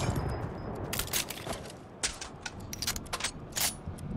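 Sniper gunshots in the video game Fortnite: a volley of sharp, loud cracks in irregular bursts, several shots fired close together over constant background game noise, with no talking.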